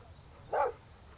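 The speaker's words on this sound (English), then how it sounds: "There you go, puppy." A single short puppy bark from the survival video game Mist Survival, one clear close yelp standing alone against a quiet background.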